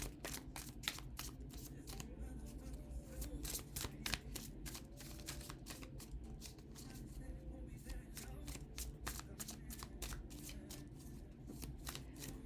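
Tarot cards being shuffled in steady repeated riffles and snaps, close and fairly loud, with a low background hum and no talking.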